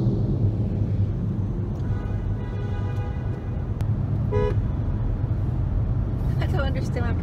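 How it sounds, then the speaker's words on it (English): Car horns honking in traffic inside a road tunnel, several short toots and a longer blast sounding over a constant low rumble of engines and tunnel noise. "I don't understand why people honk."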